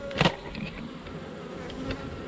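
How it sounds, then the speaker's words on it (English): Honey bees buzzing inside a beehive during a honey harvest check, a steady close insect drone with a few louder bursts as bees pass near, no talking. "Oh yeah, there's bees in here."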